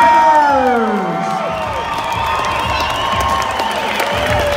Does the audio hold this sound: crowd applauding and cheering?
yes